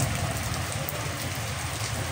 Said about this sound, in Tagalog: Kasi malakas daw yung ulan.